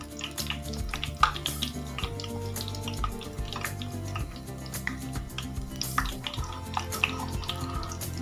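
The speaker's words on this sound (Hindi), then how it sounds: "इस तरीके से हम पापड़ को इसमें डालेंगे और इसको फ्राई कर लेंगे" Papads frying in hot oil for an Indian papad curry, giving a steady loud crackling sizzle with dense bubbling and popping throughout, no voices.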